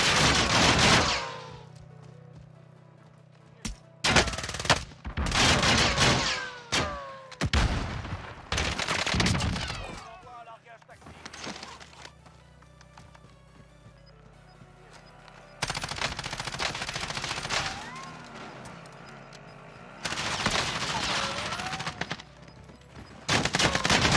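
Repeated bursts of automatic fire from a RAM 7 rifle in a shooter game, loud rapid strings of shots separated by short pauses, with quieter stretches between the volleys.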